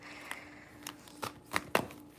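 Tarot cards being shuffled by hand, heard as a few short, crisp riffling bursts that grow louder toward the end, close and quiet with no talking.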